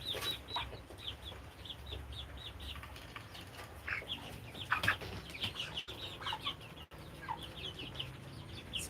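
Broiler chickens cluck and call in a small backyard poultry farm, with frequent overlapping clucks, occasional wing flapping and a busy, moderately near farmyard background.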